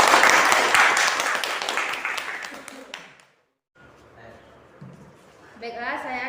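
Classroom applause during a student teaching session, a burst of many hands clapping for about three seconds, then a pause and soft voices talking.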